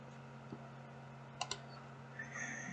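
Single computer keyboard key presses in a quiet room with steady electrical hum, a soft tap early on, then two sharp clicks in quick succession and a faint later tap.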